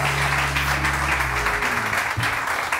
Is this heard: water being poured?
no